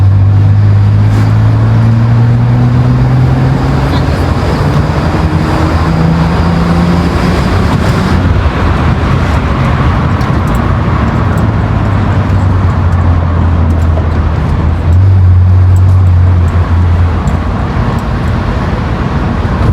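A 2009 BMW 330i on the road, its engine and exhaust a steady low drone with a rising pitch as it pulls, heard up close from inside over constant road noise.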